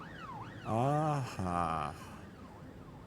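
In the police video game This Is the Police, a wailing siren rises and falls in two short sweeping blasts with a fainter siren in the background, while a man briefly murmurs.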